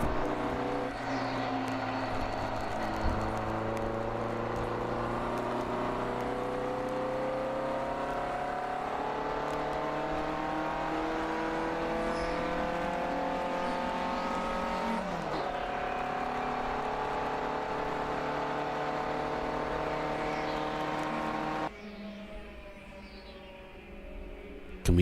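Race cars at a ChampCar endurance race at Sebring: a close, steady engine drone that climbs and falls through gear changes, with other cars passing, and a sharp drop in level near the end.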